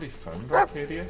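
A dog in a video game gives one short, sharp bark in the middle of the moment, surrounded by a player's talking voice.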